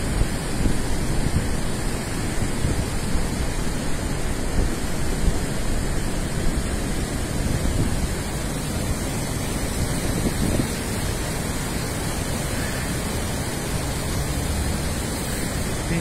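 Swollen Tanaro river flowing under the Meier bridge on a rainy day, a broad continuous rushing roar of water, steady and loud throughout with no voices.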